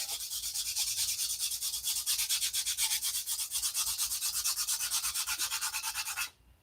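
A workpiece is sanded with rapid, even rhythmic strokes, a bright scratchy rasp that runs steadily for several seconds and then stops abruptly.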